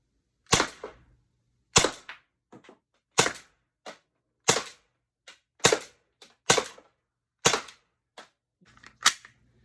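An Umarex T4E Glock 17 Gen 5 fires nylon balls in a string of sharp, close cracks roughly every second, each followed by a faint rattle, with quiet gaps between shots and no talking.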